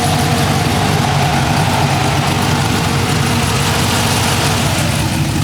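A 1973 Dodge D100 prerunner idles through a stainless exhaust from the header back with short Dynamax mufflers, giving a loud, steady, deep rumble that stays constant from start to end.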